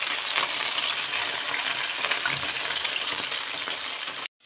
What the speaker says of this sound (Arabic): خلصت حبايبي قليت السمك